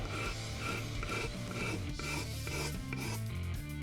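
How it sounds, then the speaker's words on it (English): A small cabinet scraper is drawn repeatedly along the wood of a guitar neck during a glue-up, producing close, rhythmic raspy scraping strokes with no talk. "the easiest way I find to get rid of that is to just carefully scrape. A little tiny cabinet scraper"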